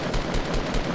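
A minigun fires in Fortnite in a dense, continuous burst of rapid gunfire that fills the whole moment with no gaps, loud and close with no voices over it.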